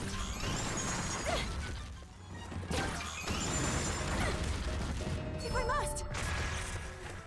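A bomb explodes in Hyrule Warriors: Age of Calamity, Zelda's remote-detonated attack, with several loud crashing, smashing bursts over a dense, continuous layer of game effects and music.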